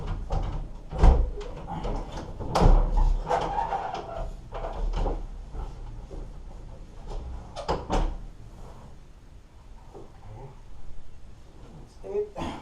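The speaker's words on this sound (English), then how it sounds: "So we need to remove all the doors, guys." Doors are removed during a flooring renovation in which carpet is pulled up for vinyl: scattered wooden knocks, bumps and clatters of handling and lifting, faint and at middling distance, spread across the stretch.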